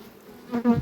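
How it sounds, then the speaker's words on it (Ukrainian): Honeybees buzz in a steady low drone around a hive, swelling louder near the end as bees pass close. "Ось тут бджоли багато."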